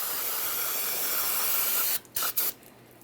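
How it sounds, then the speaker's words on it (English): Parts cleaner sprays in a steady, close hiss onto the rear parking brake hinge of a 2009-2014 Nissan Maxima. The hiss runs for about two seconds and then breaks into a few short bursts. "Got some parts cleaner here."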